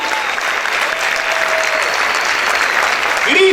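A church congregation applauds loudly and steadily, a dense wash of many hands clapping together for the full few seconds, with faint voices and a brief tone near the end.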